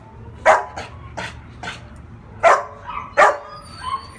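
A big-pawed puppy at a county animal shelter gives short whimpers and yips in scattered bursts, close and moderately loud, with no talk during the cries.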